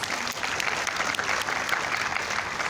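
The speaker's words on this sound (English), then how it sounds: "Please give Tan Sri another big round of applause." An audience at an entrepreneurship event breaks into a big round of applause, a dense, loud and steady clapping that fills the whole stretch without a break.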